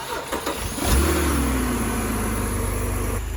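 A BMW E90 car engine cranks and catches near a garage setting, then settles into a steady, close, rumbling idle that continues to the end.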